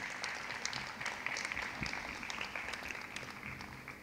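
Audience applause at a college degree certificate ceremony, a steady patter of clapping from a hall crowd that runs throughout at moderate distance, fairly soft and even.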